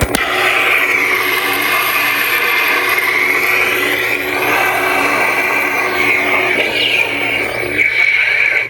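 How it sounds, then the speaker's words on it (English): A Neopixel lightsaber with a Goth Master chassis holds a steady, loud buzzing hum with crackling lockup sizzle layered throughout. It rises and flares briefly near the end. "Blade lockup is holding it down and hitting the saber"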